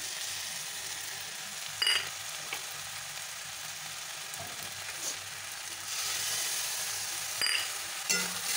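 Boiled beans frying with a splash of soy sauce in a pan make a steady close sizzle, broken by a few sharper crackles and light stirring knocks, with no voices.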